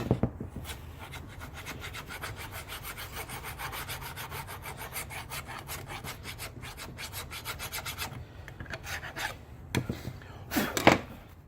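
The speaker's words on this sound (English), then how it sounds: "So just give a little bit of a scrape in there," Metal being scraped down to clean, shiny bare metal with a hand tool, a steady close rasping rub that runs continuously, then turns into a few sharper, louder strokes near the end.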